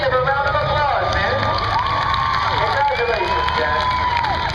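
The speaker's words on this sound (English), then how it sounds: "Let's give her a round of applause, man." A crowd at a motorsports park cheers, whoops and shouts for the winner of a ladies' tough truck competition, a steady loud roar of many voices with scattered clapping and high excited shouts throughout.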